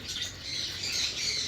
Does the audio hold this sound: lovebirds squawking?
yes